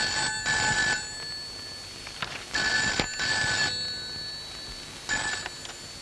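A telephone rings indoors in three clear, fairly close bursts spaced roughly two seconds apart, each a bright, trilling electronic ring with no one talking over it.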